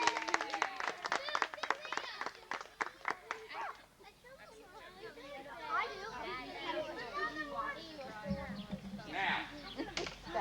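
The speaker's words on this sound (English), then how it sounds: "And give our fine young magician here a big round of applause." A small family audience gives a young magician a few seconds of scattered, close hand clapping at a home magic show, which quickly gives way to overlapping chatter and children's voices.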